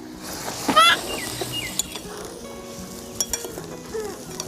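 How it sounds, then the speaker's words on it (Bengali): Bengali egg biryani masala sizzling and frying in a pan while being stirred, a steady close crackle with a few scraping and clinking utensil touches, no talking. "এবার মশলাটা ভালো করে কষিয়ে নেব"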